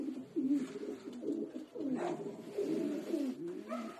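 Pigeons coo repeatedly in a loft, their soft low burbling calls overlapping in a steady stream at moderate distance with no talk.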